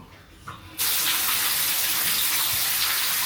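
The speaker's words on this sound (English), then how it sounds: "I did a little bit of hotel-style laundry with the shower and some shampoo" Shower water abruptly gushes on at full force for hand-washing laundry with shampoo in a hotel bathroom, a loud steady hiss of spray after a brief quiet moment.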